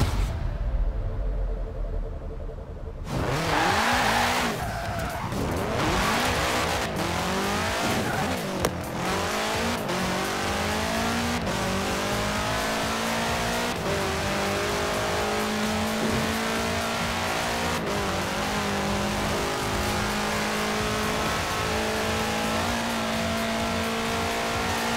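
A 1966 Volkswagen Beetle fitted with a 2.5-liter F4 turbo engine in Forza Horizon 4 roars to life after a brief quiet start, then revs hard and accelerates with tire squeal, loud and close throughout.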